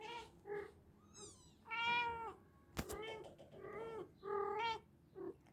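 Several cats, a mother and her kittens, meow repeatedly nearby, mixing high kitten mews with longer, louder calls, plus a single sharp click partway through.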